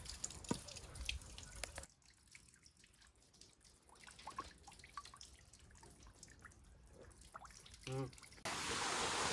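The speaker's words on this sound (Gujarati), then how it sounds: "આવી રીતે પાણી પડે" Natural spring water drips and trickles at Girnar, Junagadh, in a soft, intermittent patter with scattered outdoor noise, faint voices nearby, and a brief louder wash of flow toward the end.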